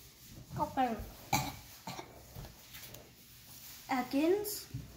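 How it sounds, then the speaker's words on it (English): A person coughs several times in short, close bursts, with throat-clearing sounds between them, while opening a Pokémon trading card pack. "Coughing. Coughing."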